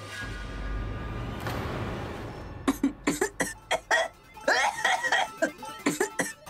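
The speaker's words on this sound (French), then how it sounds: "la pauvre fille est en train de tousser tellement fort" A run of harsh, forceful coughs in quick bursts from a girl, close by, following a stretch of low background noise.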